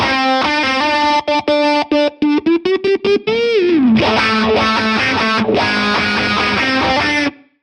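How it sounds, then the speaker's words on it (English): Distorted electric guitar playing a song's riff an octave higher, with effects and a whammy pedal pitch bend in the middle; choppy stabbed notes give way to a swooping bend and then sustained ringing chords, loud and alone. "you can hear I did the little bending thing there using the whammy pedal"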